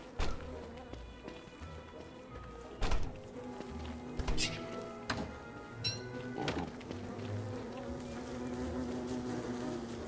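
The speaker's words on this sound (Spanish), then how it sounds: "Hola, señora abeja." A bee buzzes in the video game Don't Starve, a faint insect drone over game music and scattered taps and clicks, with no clear buzz standing out alone.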